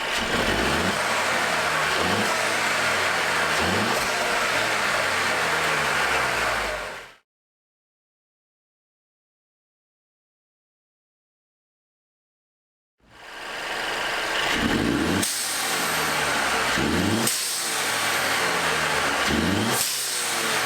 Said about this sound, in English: let me show you what the blow-off valve sounds like compared to stock.